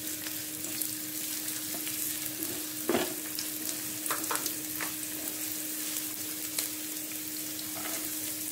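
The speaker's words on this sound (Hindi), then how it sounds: "ऑयल गर्म हो गया, जो ऑनियन लिया वो ऐड कर दिया। हाई फ्लेम में 1 मिनट सॉल्टी कर लेती हूँ।" Onions sizzle and crackle steadily in hot oil over a high flame, with a few stirring clinks and scrapes at intervals and no talking.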